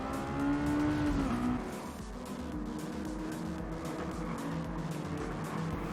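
A Mazda MX-5 race car in Gran Turismo 7 runs laps at Tsukuba, its engine revving and pulling steadily with a gear shift early on, joined by other cars and faint tyre noise; fairly quiet, no voices.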